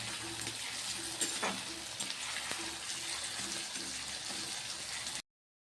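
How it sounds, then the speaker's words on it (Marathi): Green chilli and garlic frying together in a pan for a fenugreek leaf dish, a steady broadband sizzle with a few sharp spoon clinks and stirring scrapes, close and continuous throughout. "यामध्ये हिरवी मिरची आणि लसूण कापून घेतलेला आहे, तो मिक्स करून घेऊया आणि हे तीनही व्यवस्थित होऊ देऊया।"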